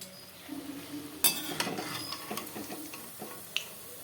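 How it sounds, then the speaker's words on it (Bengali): Mustard flower pakoras fry in oil while a spatula turns them, making quiet scrapes and a few sharp taps over a faint background sizzle, close up. "এটাকে নিয়ে নেড়ে চেড়ে একটু লাল করে ভেজে নিতে হবে"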